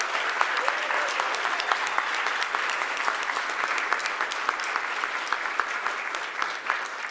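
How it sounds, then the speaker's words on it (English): Sustained audience applause at an awards ceremony for CEO Nick Neuheimer, dense steady clapping from a large crowd throughout, with no talk over it. "Round of applause for Nick."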